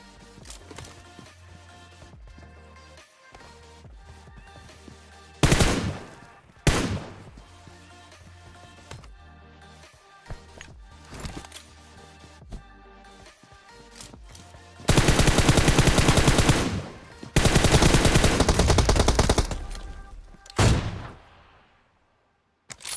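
Gunfire in an AWM sniper video game match sounds in bursts: a short volley early, then several long, loud sustained sprays of rapid shots near the end, with quieter game ambience between them.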